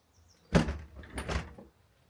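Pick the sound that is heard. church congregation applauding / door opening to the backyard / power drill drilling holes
door opening to the backyard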